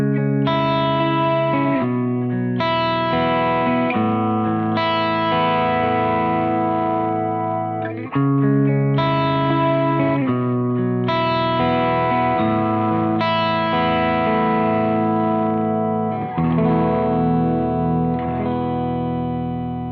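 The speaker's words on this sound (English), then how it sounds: "this amp really comes into its own when you use the crunch setting on the normal channel" Electric guitar played through a Soldano SLO 100 amplifier on the crunch setting of the normal channel, loud driven chords ringing out in sustained phrases with a few brief breaks between them.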